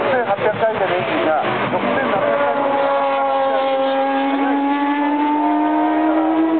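A Nissan NISMO racing car engine screams at high revs, around 6,800 rpm, its pitch climbing steadily and holding loud and sustained without a break.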